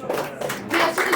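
An audience at a political campaign kick-off rally claps and cheers in a short, lively burst of applause, with crowd voices mixed in.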